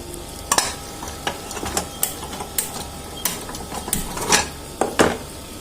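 Peas and potatoes sizzle in a pan while a spoon stirs and scrapes them, giving sharp irregular clinks and scrapes over a continuous frying hiss, close and fairly loud.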